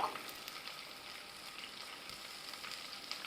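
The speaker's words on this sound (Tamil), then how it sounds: "நல்லா பொன்னிறமாக வர வரைக்கும் நம்ம வதக்கணும்" Sliced large onions sautéing in a pan with a little salt for Chettinad chicken masala, a soft continuous frying sizzle, fairly quiet and even throughout, with no voices.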